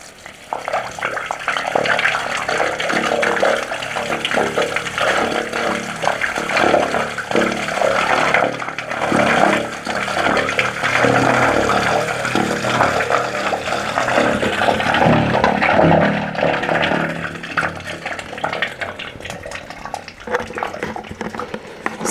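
Bleach pouring down a water well during chlorination to kill iron bacteria, a continuous loud splashing and gushing rush of liquid lasting about twenty seconds before tapering off, with no talking.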